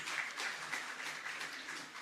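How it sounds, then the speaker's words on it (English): Audience applause at a Teachers' Day programme, a steady patter of clapping from a crowd that holds evenly for about two seconds, faint and distant. "a huge round of applause for CA Vishal Doshi sir"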